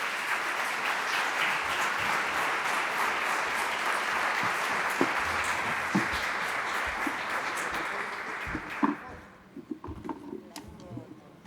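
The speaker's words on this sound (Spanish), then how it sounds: "les pido un aplauso grande para mi panel" A seminar audience claps for a panel on business and human rights. Steady, full applause carries on for about nine seconds, then fades to scattered claps while voices start up.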